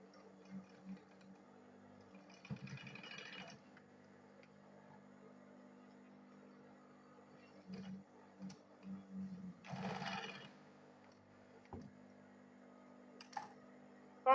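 A sewing machine stitches the corners of a ladies' backpack bag, with soft mechanical whirring that comes and goes in short bursts, a few louder runs, and light clicks between them against a quiet room.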